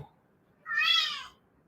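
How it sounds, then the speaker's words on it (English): A pet cat lets out a single loud, drawn-out scream of a meow. It comes in clearly after a quiet lead-in and fades within about a second. "That's my cat screaming."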